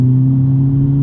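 A modified Mk5 Golf GTI engine holds a loud, steady droning note under acceleration, close and continuous for a brief moment with no voices.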